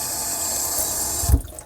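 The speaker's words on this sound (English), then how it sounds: "And I turn off the water so you could hear that I turned it off." Tap water running steadily into the inner pot of an electric pressure cooker while plain white rice is being prepared, a continuous close splashing hiss that ends in a brief thump as the tap is shut off.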